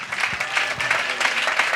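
A crowd at a regional Christian church convention in Daoukro applauds in a dense, steady burst of clapping that fills the whole moment without a break.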